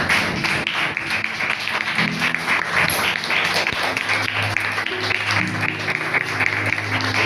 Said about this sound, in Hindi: फिर से पवित्र आत्मा के लिए हम लोग जोर से तालियां बजाएं।